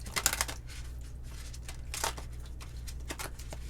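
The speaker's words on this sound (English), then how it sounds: "These cards are a little difficult to shuffle." Stiff tarot cards being shuffled by hand, giving irregular crisp riffling bursts and soft slaps close by, louder at the start and scattered through the rest.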